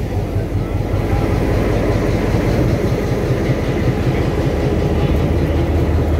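A DT668 steam locomotive hauling a passenger train on the Hualien–Taitung line rumbles past, loud and steady with rhythmic wheel clatter over the full stretch and faint voices beneath.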